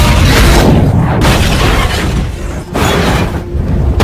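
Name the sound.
car explosion in an action film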